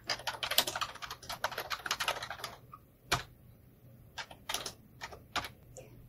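Keys clatter in quick, uneven bursts as code is typed on a computer keyboard, with close, crisp clicks, a short pause, then more scattered keystrokes.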